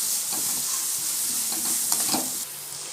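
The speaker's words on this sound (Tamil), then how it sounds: "வெங்காயம் நல்லா வதங்கட்டும்." Onions sautéing in a pan for bajji chilli egg podimas, a constant close sizzle with soft scraping stirs of a spatula through it, no talking.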